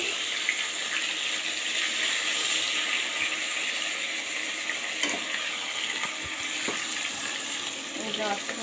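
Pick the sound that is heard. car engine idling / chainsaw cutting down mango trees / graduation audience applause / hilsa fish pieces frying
hilsa fish pieces frying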